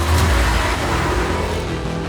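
A Porsche Cayenne Turbo GT SUV accelerating, a steady deep engine roar with low rumble held throughout at close range, loud and unbroken, with no one speaking.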